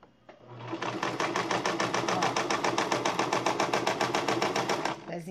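A sewing machine stitches a foam cover in a steady, fast run of needle strokes lasting about five seconds, loud and close, with a brief start and stop at each end.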